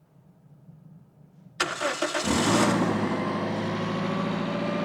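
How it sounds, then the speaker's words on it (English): A car engine is jump-started with a portable battery pack: quiet at first, then a sudden burst of cranking that catches within a second and settles into a steady, close idle. "We have a remote starter to start our car"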